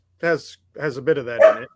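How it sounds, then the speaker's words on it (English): A dog barks a few times in a home while people chat about TV shows, the yaps sharp and close, mixed in with their talking. "sorry about the barking"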